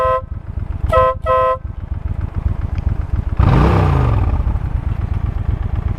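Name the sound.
car horn honking at a snake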